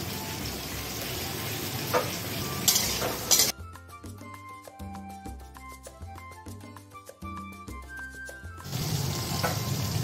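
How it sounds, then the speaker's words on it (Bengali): Salted eggplant frying in a pan for a Bengali shukto gives a steady, close broadband sizzle with a few sharp clinks, cut off midway by a stretch of instrumental music before the sizzling returns. "বেগুনটা ভাজা আমার হয়ে গেছে, এবার বেগুনটা আমি উঠিয়ে নিচ্ছি"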